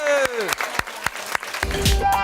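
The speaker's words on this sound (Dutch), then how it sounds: "Applaus voor Jelte en Sietse." Applause greets the winners of a cake-baking contest, a run of sharp claps under a sliding tonal sound, with a low rumble joining near the end.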